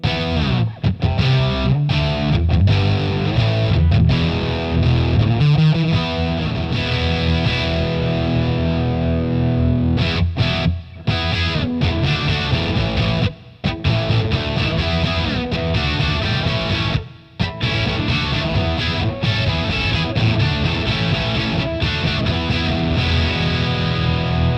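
Electric guitar played through a Boss DS-1 distortion pedal with the gain around ten o'clock, giving loud, thick sustained chords and riffs broken by a few brief stops.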